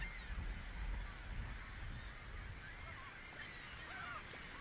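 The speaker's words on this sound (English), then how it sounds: "Millions of birds in flocks so enormous, they blanket the sky on radar images." A distant flock of migrating birds calls with scattered honking, goose-like cries over a steady outdoor wash of wind and noise, faint and overlapping.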